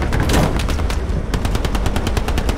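Sustained machine-gun fire in the WWII shooter Hell Let Loose, with rapid close bursts and a short break before steady rhythmic shots resume, loud and alone.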